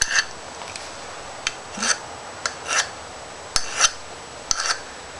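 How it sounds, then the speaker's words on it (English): The tip of a small soldering iron ground down by hand, heard as short, close scraping strokes spaced about half a second to a second apart over a faint background hiss. "on this tip here on the solder iron, you got to kind of grind that down a little bit"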